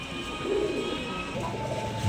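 Black Hatbazi pigeons offered for sale in Rajshahi coo in a steady, close, low murmur that fills the short stretch without any talking.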